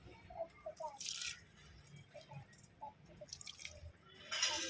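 Water poured generously over water spinach plants in a home garden, with a couple of soft splashing bursts and scattered drips in between, fairly close and alone.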